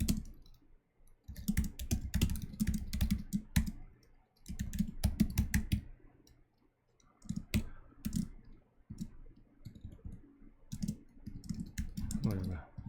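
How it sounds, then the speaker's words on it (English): Rapid bursts of clicky keystrokes on a computer keyboard while working through a coding puzzle, close and crisp, coming in uneven runs with short pauses between them. "I'm just typing out what I suspect I would need."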